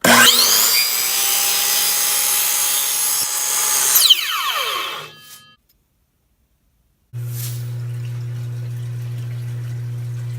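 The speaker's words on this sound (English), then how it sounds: "this plexiglass, I always use a table saw or a miter saw" A power saw whines loudly cutting through plexiglass for several seconds, spins down into silence, then a low steady motor hum starts up.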